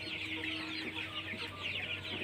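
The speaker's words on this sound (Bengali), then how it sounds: "টাইগার মুরগি তুলছি মাত্র" A flock of about 3,000 tiger chickens in a 6,200-square-foot poultry shed clucks in a faint, continuous chorus, with no voices over it.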